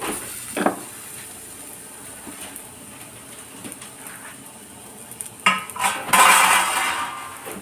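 Boiled elephant foot yam is tossed in a pan with garlic and coconut, a few clattering spatula knocks and scrapes against the metal over a low sizzle, ending in a louder burst of frying, with no speech.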